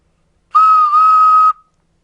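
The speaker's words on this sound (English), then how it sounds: "That's the noise of a train toot-tooting." One clear, steady toy train whistle toot lasting about a second, loud and close, with silence around it.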